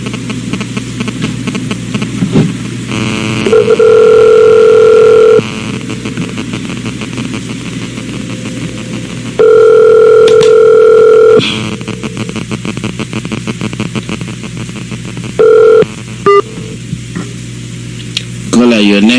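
A telephone dial tone sounds on a live radio call-in broadcast after a caller's line drops, steady tones repeating in several spells of about two seconds against a background hum.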